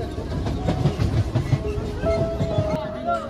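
A crowded early-morning Kolkata local commuter train rumbles along, heard from inside. The wheels clatter steadily and loudly, with faint voices underneath and a brief high whistle-like tone near the end.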